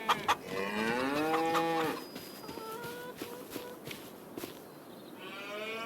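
Dairy cows in the video game Farming Simulator 25 moo, first one loud, drawn-out call, then softer, shorter lows with a few light thumps in between.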